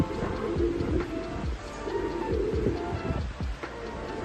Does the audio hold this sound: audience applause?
no